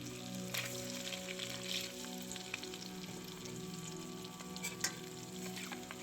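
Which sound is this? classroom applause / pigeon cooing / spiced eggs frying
spiced eggs frying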